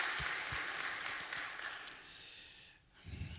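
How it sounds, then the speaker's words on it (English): A church congregation claps together in a dense, wash-like burst of applause, filling the room briefly before tapering off, heard at a moderate distance. "Can we clap to God for that?"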